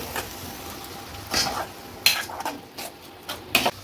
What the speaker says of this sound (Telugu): దీంట్లో పచ్చివాసన పోయేంత వరకు ఈ విధంగా హై ఫ్లేమ్ మీద దగ్గరుండి కలుపుకోండి